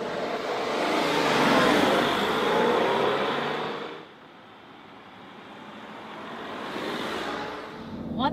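A 2015 Smart fortwo with a five-speed manual transmission pulls away, its small engine droning and rising steadily, easing off mid-way, then building again as it gathers speed.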